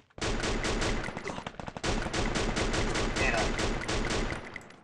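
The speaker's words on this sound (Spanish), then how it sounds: "Están disparando por el otro lado" Dense rapid gunfire from a Free Fire battle royale match, bursts of automatic shots rattling almost continuously for several seconds with brief gaps, loud and close.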